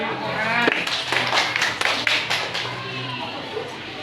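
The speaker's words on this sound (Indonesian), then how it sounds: "Ya, beri tepuk tangan." Children in a classroom clap their hands in a short burst of brisk, uneven applause, mixed with voices talking, and the clapping fades within a couple of seconds.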